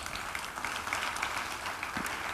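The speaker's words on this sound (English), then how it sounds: "a big round of applause once again for His Excellency Mr. Ali Al-Ali." A crowd applauds steadily at a distance at the Dubai World Cup 2026 draw ceremony, a soft continuous patter of clapping filling the room without pause.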